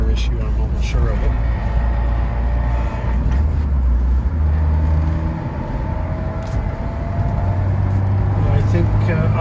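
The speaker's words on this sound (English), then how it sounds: "That exhaust rattle you hear under load" Steady low engine and exhaust drone inside a 1991 Alfa Romeo Spyder driving at about 70 km/h under load, with a rattle from a loose exhaust hanger. The sound stays close and constant, with brief faint shifts in the rumble.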